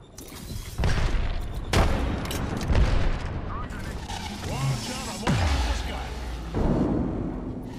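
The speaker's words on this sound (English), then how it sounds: "Grenade." Grenade blasts and dense gunfire in a squad-based shooter game, with several loud broadband booms at intervals over continuous shooting and game voice callouts.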